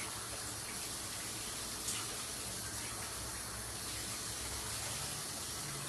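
Tap water pouring into a pot of rice in a home kitchen, a steady, quiet, even rushing hiss lasting throughout with no voices.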